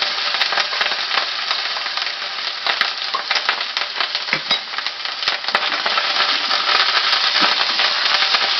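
Spice paste of turmeric and ground coriander sautés in a pan, a loud close crackling sizzle with bursts of spattering and stirring scrapes, heard alone.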